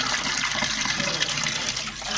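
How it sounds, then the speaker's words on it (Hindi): Tap water runs steadily and close by as raw fish pieces are rinsed clean in a kitchen, a constant splashing flow with no pauses and no talk. "सारी फ़िश आप ऐसे वॉश कर लें।"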